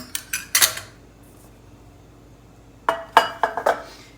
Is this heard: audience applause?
no